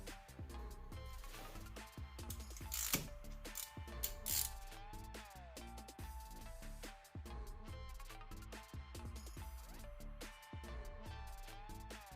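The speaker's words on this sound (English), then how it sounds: "you're going to need a 5/8 spark plug socket, and you're going to need to remove these spark plugs" A ratchet turns a 5/8 spark plug socket to remove spark plugs from a 1990–93 Honda Accord engine, giving faint, rapid bursts of clicking over a steady tonal background.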